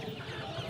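Chickens clucking at the crowded Meradiya chicken market, a steady mix of low fowl calls and market bustle over a brief stretch, with no clear talk.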